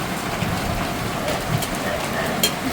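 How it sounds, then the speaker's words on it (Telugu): Hailstones and heavy rain pelt a metal sheet roof, a steady dense patter with sharper scattered clicks from ice striking the sheets, continuous and close throughout. "వడగళ్ళు పడుతున్నాయి."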